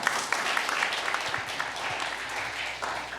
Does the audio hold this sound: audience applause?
yes